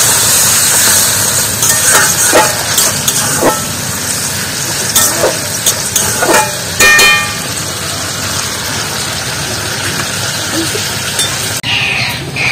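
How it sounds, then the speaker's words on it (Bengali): Water hyacinth fries in a pan, and a little water is added so it sizzles loudly and steadily. Stirring scrapes and light clinks of a utensil against the pan cut through at intervals. "একটু সামান্য জল দিয়ে দিচ্ছি, যেহেতু আমার ভাজা আছে পানা"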